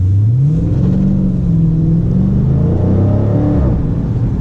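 A 2019 Dodge Challenger Scat Pack widebody revs and pulls away from a standstill with some wheel spin, a steady throaty rumble rising in pitch, with no voices over it.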